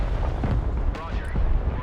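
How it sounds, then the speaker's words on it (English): Rumbling explosions in the military strategy game Broken Arrow, a dense, continuous low roar with several sharper booms around the midpoint and later, loud and constant throughout, with no clear talk over it. "Oh, boom, boom, boom! Tons of explosion."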